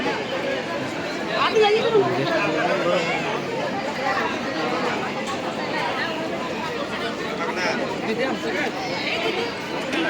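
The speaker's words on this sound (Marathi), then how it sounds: "गर्दी तर खूप आहे" Large crowd chattering steadily at Ganpatipule temple in Konkan, a dense, continuous babble of many overlapping voices close around, with no single speaker standing out.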